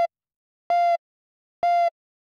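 Synth tones from Serum's analog BD Syn wavetable set to position 256: three short, clean buzzy notes with bright harmonics, each starting with a sharp click, separated by silence.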